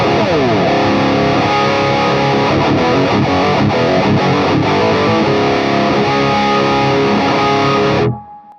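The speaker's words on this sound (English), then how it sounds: "now we are on the dirty channel of the PRS MT15, and we are in the bridge position" Fesley FSG350 electric guitar on the bridge pickup through the dirty channel of a PRS MT15 amp, heavily distorted riffs with a bright, crunchy edge, playing continuously and loudly before cutting off abruptly.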